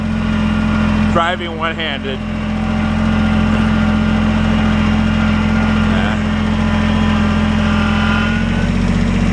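Tractor engine revving up from a steady idle into a loud, continuous drone, close by, with someone speaking briefly near the start over the running motor.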